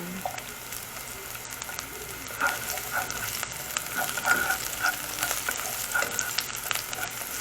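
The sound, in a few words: garlic and white onion frying and being stirred in a pan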